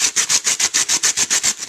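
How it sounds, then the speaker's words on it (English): Two styrofoam blocks rubbed together inside a Ziploc bag in a sanding motion give about nine rapid, even, squeaky scraping strokes in a steady rhythm, close and loud, with no talking. "rub these 2 blocks together as if you're sanding"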